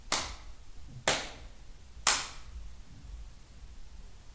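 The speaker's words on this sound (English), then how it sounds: "why are you clapping your hands?" Three distinct hand claps ring out at steady one-second intervals, crisp and fairly close in a quiet room, with no talking.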